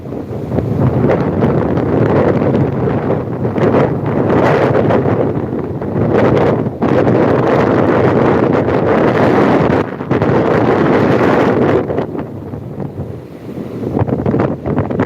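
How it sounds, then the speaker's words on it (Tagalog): Small waves wash onto a quiet beach under a strong wind, heard as a loud, continuous roar with slow swells and buffeting gusts hitting the microphone; no one speaks. "Ang tunog lang ng dagat ang naririnig. May waves."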